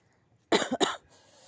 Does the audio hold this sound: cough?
yes